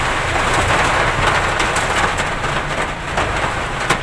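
Heavy rain with wind during a storm, a dense, steady roar of downpour drumming close and loud on surfaces for the whole stretch, with no voices.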